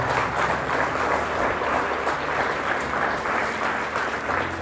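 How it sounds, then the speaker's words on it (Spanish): A church congregation applauds during a Spanish-language Easter sermon, a steady, even wash of many hands clapping at moderate loudness with no talking over it. "Dale un aplauso, hermanos,"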